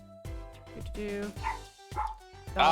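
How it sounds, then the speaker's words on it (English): Cartoonish dog barks and yips from the Apollo Justice video game, several short bright bursts in a rhythmic sequence ending in a louder, higher whining yelp, heard alone over a faint game background. "Dog."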